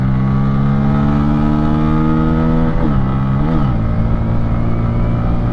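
Bajaj N160 motorcycle engine while riding, a loud continuous hum at steady revs, dipping twice with brief gear-change blips before settling at a lower pitch.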